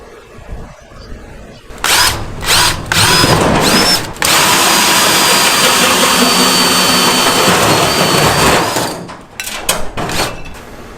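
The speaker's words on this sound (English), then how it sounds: "I need to go find center real quick, drill my pilot hole" A power drill bores a pilot hole through the center of an overhead garage door panel. A loud, steady grinding whine runs for about seven seconds with brief stops and restarts, then cuts off.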